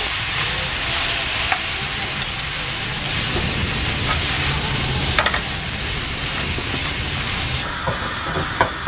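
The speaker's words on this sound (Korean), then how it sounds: "먼저 고기 볶아줍니다" Meat, onion, mushroom and carrot stir-fried together in one pan for japchae, giving a loud, continuous sizzle with occasional clatters of the utensil against the pan.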